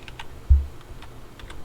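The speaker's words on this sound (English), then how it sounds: "go ahead and open up a new tab and type in obsproject.com" Quick clicking keystrokes on a computer keyboard, entering a website address in a short, close, uneven burst of taps with no talking.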